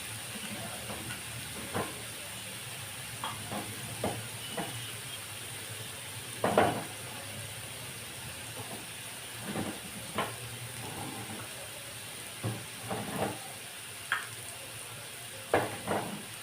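Onions sauté in a pan for mild egg bhurji, giving a steady close sizzle with scattered scrapes and taps of a stirring utensil throughout, and no talking.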